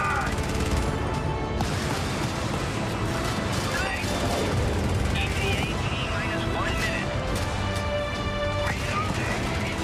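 Turret gunfire in the video game Helldivers: dense, continuous crackling bursts with crashes and explosions under game sound, loud throughout, with voices talking over the chaos.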